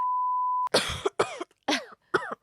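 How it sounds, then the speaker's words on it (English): A short beep tone is followed by a run of several harsh coughs, close and fairly loud, separated by brief pauses. "Cough."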